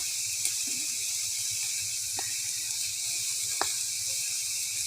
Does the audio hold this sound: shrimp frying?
yes